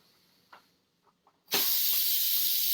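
Steam releases from a quick cooker making lentil soup: a loud, steady hiss bursts on suddenly and keeps going after a few faint clicks and taps, with no talking.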